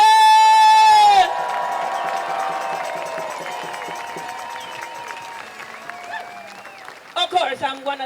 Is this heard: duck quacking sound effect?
no